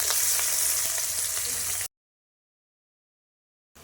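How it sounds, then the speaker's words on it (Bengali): Chopped onions and whole spices, including cardamom, bay leaves and cinnamon, sizzle in hot oil in a pan for egg biryani, giving a steady close frying hiss that cuts off abruptly into silence. "ভালো করে ভেজে নেব।"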